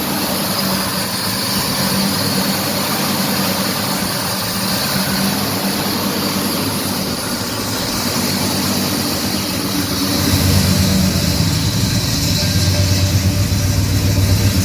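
A 1969 Pontiac GTO with an MSD ignition and fuel injection that is still learning idles close by. Its deep, steady rumble turns slightly rougher and louder near the end.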